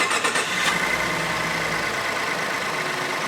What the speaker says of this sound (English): with the vehicle in park, we can go ahead and start the engine to make sure